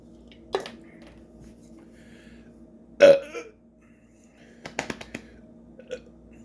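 A man lets out a loud, sharp burp, one strong eructation standing out between a few quieter mouth sounds and clicks in an otherwise quiet room.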